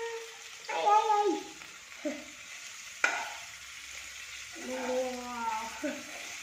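Mushroom pepper fry is stirred in a frying pan, with bursts of scraping and sizzling at irregular moments. Voices talk between and over the stirring.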